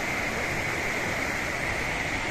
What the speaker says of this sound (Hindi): देखिए पानी गुजर रहा है नीचे से